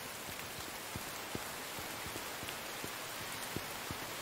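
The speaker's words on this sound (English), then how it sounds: "Your hay should not be out in the rain." Steady rain falls in a survival video game, a dense hiss with scattered distinct droplet taps, continuous and without voices.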